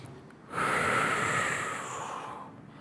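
A single deep inhalation, a breathy rush of air lasting about two seconds, close and soft, alone with no talk.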